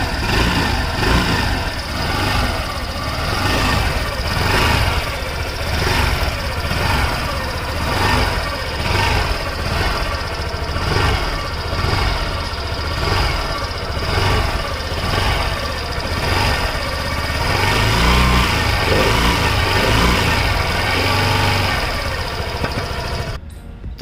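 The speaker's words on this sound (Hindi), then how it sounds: "इसका एग्जॉस्ट का साउंड कुछ ऐसा है" Suzuki Access 125 BS6 scooter, 2021 Bluetooth Edition, with its exhaust close up: a loud steady single-cylinder putter at idle with repeated rev swells, continuous throughout with no voices.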